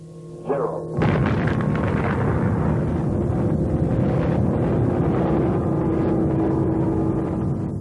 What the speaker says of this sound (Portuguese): a primeira bomba atômica foi detonada